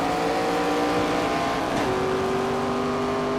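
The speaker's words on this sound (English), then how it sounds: "There's the sound of that transmission again." A NASCAR race car engine in the video game NASCAR 25 whines at high pitch with transmission whine, holding a steady tone before a quick gear shift drops the pitch, continuous and fairly loud.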